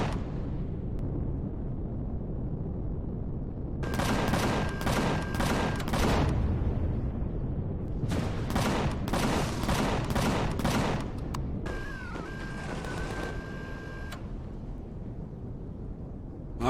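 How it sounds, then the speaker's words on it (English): Video game Empyrion combat with rapid bursts of gunfire and explosions in clustered volleys over a constant low rumble, loud and close, with pauses between bursts. "I heard an explosion."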